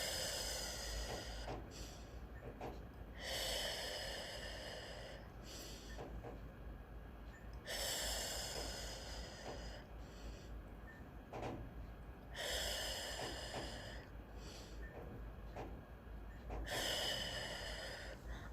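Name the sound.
breathing exercise, small breaths held 2 to 3 seconds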